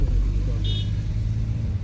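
A car engine idles with a steady low rumble while the vehicle is being parked, holding close and even under the cabin with a brief high tone partway through.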